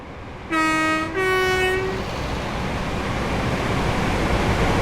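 A train's two-tone horn sounds twice in quick succession, loud and clear, then fades into a steady rumbling wash of rail noise at a station on Great Western Railway's Riviera Line to Paignton in Train Sim World 6.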